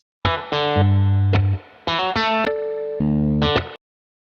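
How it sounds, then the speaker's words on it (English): A distorted electric guitar riff plays a few choppy, edited chord stabs with short gaps between them, then stops cleanly and gives way to a ringing harmonic that fades out. "I need this riff here to stop, and I need that harmonic to take over."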